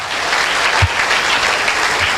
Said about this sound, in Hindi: अब तक का सबसे जोरदार और शानदार ताली होनी चाहिए